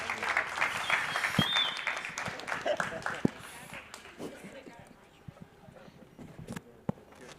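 Audience applause closing a panel on the Tropical Sunset stage at a tech conference, starting fairly full then thinning out, with scattered claps and speech heard over it.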